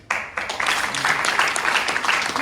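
Scattered then building clapping from part of the crowd at an improv show, starting with a few sharp claps and swelling into moderate applause with a lighter, uneven texture.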